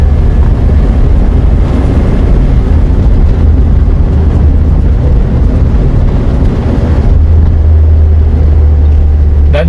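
A 2008 Toyota Avanza 1.3 G drives along a narrow city street, its steady low engine and road rumble close and constant throughout, with wind buffeting the microphone.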